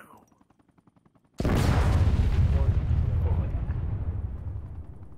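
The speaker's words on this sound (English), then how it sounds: "They just blew the trucks 20 feet the opposite direction." Trucks blow up in an Arma 3 firefight: after a stretch of quiet voices and faint ticking, a sudden massive blast erupts and rolls on as a long, dense rumble that slowly fades.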